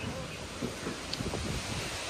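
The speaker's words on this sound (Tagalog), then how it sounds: "Medyo lumakas-lakas na talaga yung hangin." Strong wind buffets the microphone outdoors in a rural province in the Philippines, a continuous rushing roar with small gusts swelling and easing throughout.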